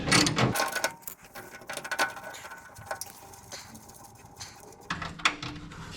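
Wrench loosening 1/2 inch bolts in a stripped-down engine bay, close ratcheting clicks and metallic turning noises in short bursts, fairly quiet with no talk.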